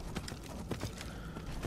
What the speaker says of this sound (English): I got used to using this horse now